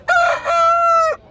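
A rooster about one year old and roughly 4 kg crows once, loud and close, at a rooster market: a short opening note followed by a long, sustained, strongly tonal call.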